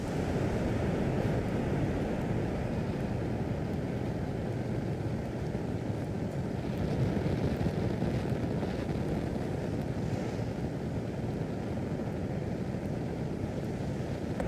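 Falcon 9 rocket engines thundering during ascent on the Turksat 5A launch, a steady, broadband rumbling roar held at an even level throughout, distant and unbroken, with no talk.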